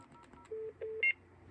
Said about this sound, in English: let's call this again from this phone using the distinctive ringing number